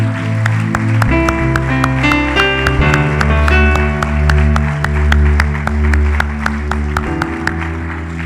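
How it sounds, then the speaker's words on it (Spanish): A church congregation claps along in a steady rhythm over loud sustained music with a deep bass, the regular claps sounding evenly throughout. "Dale un fuerte, fuerte aplauso al Señor."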